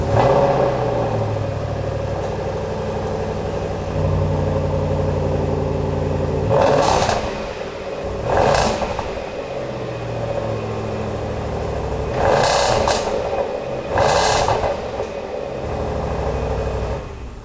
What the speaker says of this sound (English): This week's cold start is my wife's Range Rover SVR Urban Edition. It's got the sports exhaust as well.